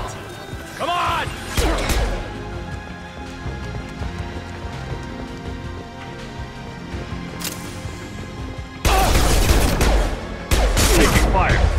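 Gunfire from Mass Effect 2 during a firefight: bursts of shots and impacts, louder volleys near the end, with combat voices calling out amid the shooting.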